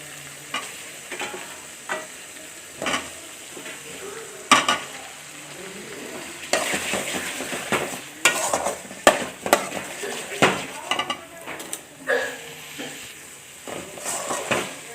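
Fried eggs are stirred into a sizzling spice paste in a pan: repeated scraping strokes of a spoon and light clinks sound over a continuous frying hiss, close and fairly quiet.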